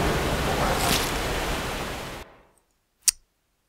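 A rushing surge of water splashes into the character's face in the Tomb Raider video game, a loud broadband wash lasting about two seconds that cuts off abruptly, followed by silence and a single short thump.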